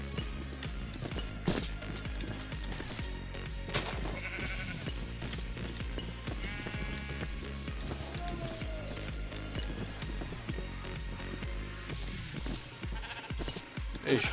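Goat bleats from Minecraft ring out several times over a busy, continuous game soundtrack, with footsteps and other game noises mixed in.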